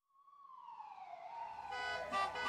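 A cartoon ambulance siren wails alone, starting as a single tone and swelling louder with rising and falling pitch as the vehicle seems to approach, stuck in traffic with broken traffic lights.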